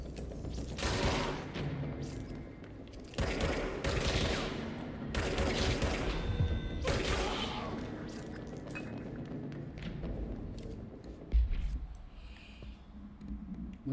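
Sustained bursts of gunfire from the service weapon in the video game Control in shadow mode, several long loud volleys separated by short pauses, with a thump near the end.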